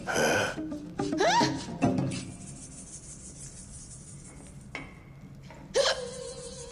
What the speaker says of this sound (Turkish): hıçkırık tuttu da beni